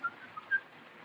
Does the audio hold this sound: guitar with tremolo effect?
no